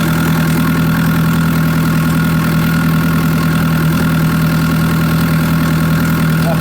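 A farm tractor idles steadily at close range, its low engine drone and strong hum holding constant with light vibration, used while spreading anti-slug pellets on a wheat field.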